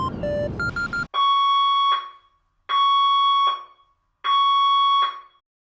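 Inside a fire station at Los Santos International Airport in the video game GTA 5, a short rising tone sequence gives way to three loud, evenly spaced electronic alarm blasts, each about a second long, with brief silences between them.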